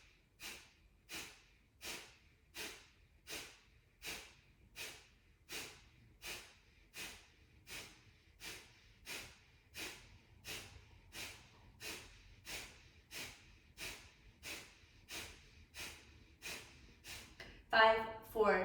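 Rapid yoga breath of fire, the belly pumping the air out in short forceful nasal exhales, about one and a half per second, steady and close for the whole stretch, ending in a louder burst.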